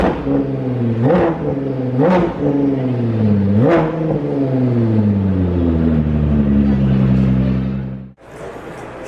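A Ford GT Mk II, the track-only version with a 3.5-liter EcoBoost V6, blips its throttle three times before settling into a loud, steady rumble that cuts off abruptly near the end.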